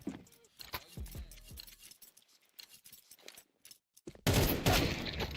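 Gunfire in an esports shooter match lands a headshot: sharp, crisp reports amid quieter game noise, followed by a sudden burst of loud, dense crowd or effects noise near the end.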